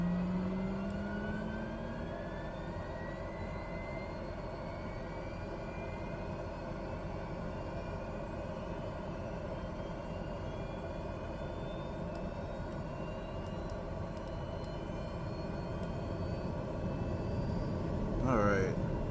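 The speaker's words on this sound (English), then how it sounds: "We got a good engine start." An aircraft engine starting up, a steady broadband turbine roar with a rising whine that climbs slowly and holds at idle, fairly faint and continuous throughout.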